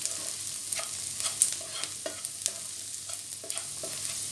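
Garlic and onion sauté in a frying pan, a steady soft sizzle running throughout with light stirring scrapes and small taps, close and fairly quiet, with no one talking.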